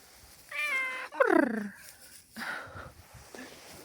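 A cat lets out two loud, drawn-out meows close by, followed by a softer, shorter meow.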